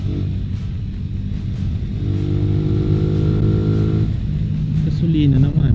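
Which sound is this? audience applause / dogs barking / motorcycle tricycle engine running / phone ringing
motorcycle tricycle engine running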